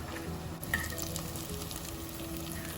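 Oil sizzles and crackles steadily as eggplant fries in a wide pan, a continuous close hiss with small pops and no talking.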